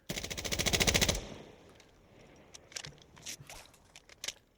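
Rapid automatic rifle fire from the F2000 in Insurgency Sandstorm: a dense, steady burst for about a second, loud and close, followed by quieter scattered clicks and handling noises.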